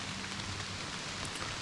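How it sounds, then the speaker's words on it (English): Steady rain falls in a Michigan woods during early-season bowhunting, a dense even hiss of drops on surfaces with no pauses and no voices. "rain's supposed to stop in a couple minutes"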